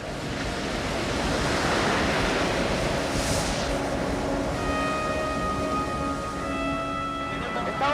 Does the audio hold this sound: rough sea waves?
yes